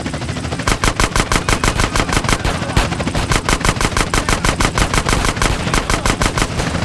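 Sustained machine gun fire in the video game GTA San Andreas, a rapid, evenly spaced burst of loud shots after a brief opening, with one short break midway and no talking.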